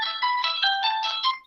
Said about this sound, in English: just a second, I'm getting a call.